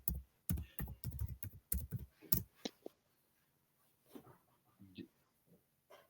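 A quick run of keystrokes clicks on a keyboard while a word is typed into an online chat box during an English lesson, crisp taps up front fading into quieter background noise.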